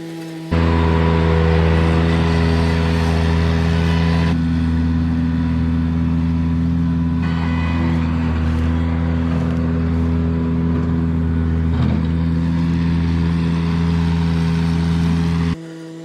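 Ventrac compact tractor engine running steadily while being ridden, a loud close drone with a firm low hum that holds evenly for the whole stretch before cutting off near the end.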